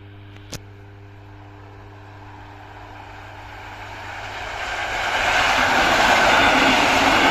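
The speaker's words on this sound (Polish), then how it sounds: "I to był właśnie przelot pociągu" A Regio passenger train on the Elbląg–Olsztyn Główny line approaches the Gronowo Górne level crossing while the crossing signal sounds steadily, and the rumble grows loud and close as the train passes.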